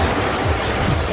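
Ocean waves wash in at João Fernandes beach in Buzios, a steady close roar of surf filling the whole moment with no voices.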